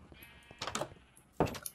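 Sheep in the Minecraft video game bleat in two short bursts, quiet and close over faint background game sounds, with no speech.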